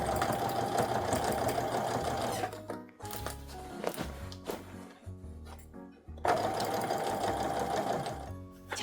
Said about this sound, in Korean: 이제 이 부분을 재봉을 해줄 건데요